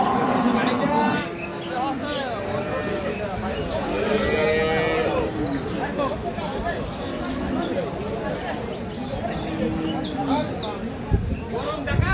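Crossbred cows with calves at a busy cattle market, mooing repeatedly at mid distance, with drawn-out calls rising over a steady crowd murmur and people talking nearby.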